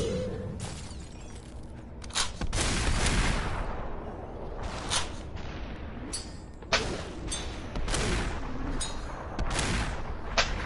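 Gunfire in Superhot comes as a series of sharp, loud shattering bursts spaced irregularly over a steady rumble, with several distinct impacts and one voice speaking briefly.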